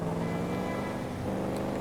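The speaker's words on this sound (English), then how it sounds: "And of course there's the engine noise." A tuned black saloon car cruises in a video game, its engine giving a steady, fairly loud drone and hum that stays even throughout, with no talk.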